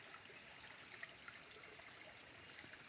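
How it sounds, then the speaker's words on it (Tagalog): A small, diminished stream of flowing water running steadily, a soft continuous trickle with gentle swells in level and a faint high hiss throughout, heard alone without talk. "So ang sapa karon gamay na lang yun siya."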